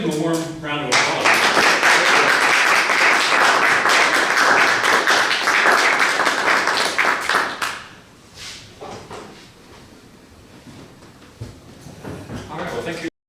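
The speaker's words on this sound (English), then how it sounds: "Let's give them a warm round of applause." Audience applause rings out for roughly eight seconds after a talk at a Keep Little Rock Beautiful event, dense and steady clapping that then cuts off, leaving quiet room noise with scattered small sounds.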